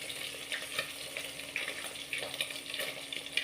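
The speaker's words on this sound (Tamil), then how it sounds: "நல்லா ஃப்ரை ஆயிடுச்சு. கிறிஸ்பியான ஃபிஷ் ஃப்ரை." Fish fries crisp in hot oil, a steady, close sizzle with soft bubbling swells and occasional crackles, fairly quiet and with no talking.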